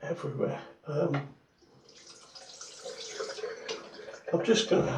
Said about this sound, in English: just going to have to rinse the blade under the tap